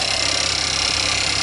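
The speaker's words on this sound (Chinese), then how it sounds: "好像有拿东西在那边咔咔咔咔咔的声音，" Engine of a Skoda Kodiaq SUV idling with the hood open, a steady mechanical hum overlaid by a fast, continuous ticking or clicking that suggests an engine fault, close and even throughout with no talk.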